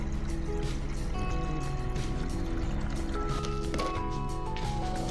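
A shower runs in a small tiled bathroom under renovation, making a steady, even hiss of falling water that stays constant and moderately close throughout.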